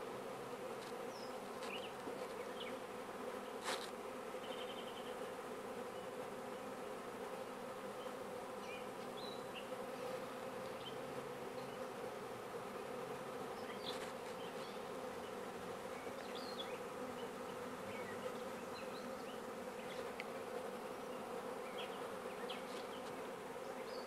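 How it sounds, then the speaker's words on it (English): Honey bee swarm droning in a dense, continuous buzz that stays steady and moderately loud throughout, with occasional closer bees passing by. "Still got a lot of bees."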